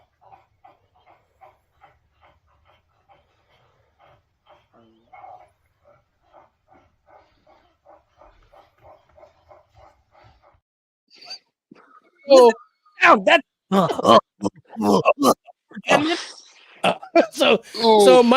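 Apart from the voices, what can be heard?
dog vocalizing while watching a movie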